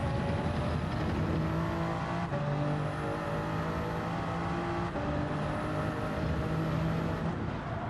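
A Porsche 911 GT3 race car in a Nations Cup racing game accelerates hard, its engine note climbing steadily through gears with brief shift breaks, loud and continuous with no talk.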